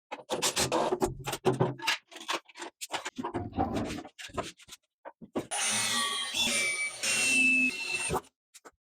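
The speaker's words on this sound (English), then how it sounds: "so I can easily drill these holes from the inside" A power drill whines in short bursts against sheet metal, drilling holes from the inside of a mobile tool base, separated by pauses with scraping and handling noises, ending in a longer high-pitched drilling run.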